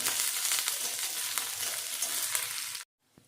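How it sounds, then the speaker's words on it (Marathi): Green chilies fry in hot oil with raw potatoes that have already browned, giving a loud, steady sizzle close by that cuts off abruptly near the end, followed by a faint tap. "तेलामध्ये मी कच्चाच बटाटा घेतलेला आता बटाटा फ्राय झाला त्यात घालते मी हिरवी मिरची"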